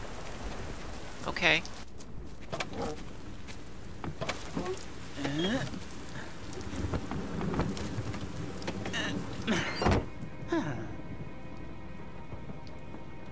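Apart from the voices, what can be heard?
rain in a video game (Last Day of June)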